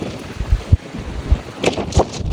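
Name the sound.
strong wind on a roof deck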